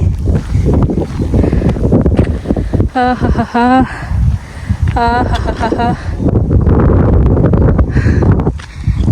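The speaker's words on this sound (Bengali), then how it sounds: "অনেক মনোরম বাতাস" Strong wind buffets the microphone with a constant rumbling roar, while people talk over it in a few short stretches.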